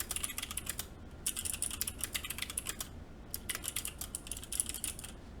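Rapid clacking keystrokes on a mechanical keyboard come in close, dense bursts separated by short pauses, loud and alone with no talking.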